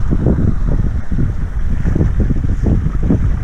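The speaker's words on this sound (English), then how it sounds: "Even as we talk, we're starting to get some wind." Steady wind buffets a sailboat under sail, a loud continuous rush of air and microphone buffeting with low rumbling gusts, with water faintly washing along the hull.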